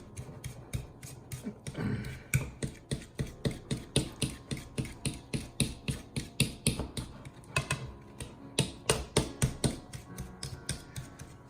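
A stand mixer beats a Caribbean Bakewell tart mixture, giving a steady, rapid rhythmic clatter and whir that runs on without talk, with a brief louder surge near the start.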